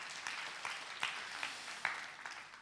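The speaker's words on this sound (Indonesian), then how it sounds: "Tepuk tangan dulu bagi Allah kita." Church congregation clapping together during a worship service, a sparse, moderately quiet patter of hands with a few louder bursts over under three seconds.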